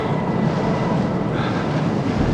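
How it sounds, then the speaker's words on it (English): Steady wind buffeting the microphone while cycling near La Rochelle, France, a continuous low roar with no pauses. "Can't wait to get out of this wind."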